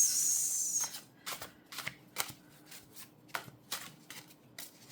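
A deck of cards is shuffled several times in quick, crisp riffles and flicks, close and fairly quiet, in short bursts separated by brief pauses.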